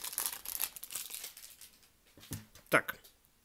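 Plastic wrappers of Skrepyshi toy blind packs crinkle and rustle in short bursts as they are opened, close by and fairly quiet, ending with one sharper crackle, and a voice talks alongside.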